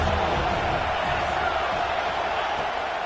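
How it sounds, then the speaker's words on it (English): Steady stadium crowd roar from the College Football 26 video game, a dense continuous wash of massed voices at constant loudness with no single cheer standing out, fairly loud and unbroken throughout. "Man, this crowd really affecting the football game."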